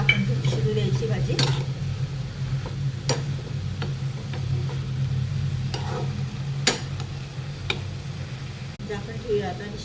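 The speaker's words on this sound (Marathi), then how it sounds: "मिक्स करून आपल्याला झाकण ठेवून शिजू द्यायची भाजी" Dry fenugreek (methi) vegetable being stirred in a pan, a low steady sizzle with spaced spoon taps and scrapes against the pan, faint and close, with a person talking over it.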